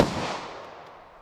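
A single .40 Smith & Wesson round fired from a 5-inch pistol during a ballistic velocity test. The sharp report lands right at the start, then rings out in a long, fading tail with no talking.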